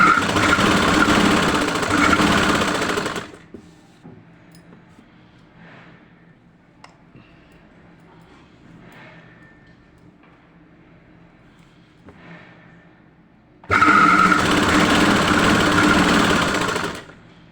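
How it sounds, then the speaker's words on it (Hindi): An electric sewing machine stitching a salwar, with two loud, fast steady whirring runs of stitching near at the start and end, and a quiet stretch of faint handling noises between them, no talk. "सिलाई जब हम सिलाई स्टार्ट करते हैं, तो उसे लॉक लगा के स्टार्ट करें।"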